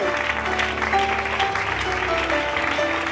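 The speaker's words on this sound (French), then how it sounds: "Tu peux bien acclamer" A church congregation cheers and applauds during a Sunday service, a steady, dense wash of clapping and crowd noise filling the room throughout, with sustained tones underneath.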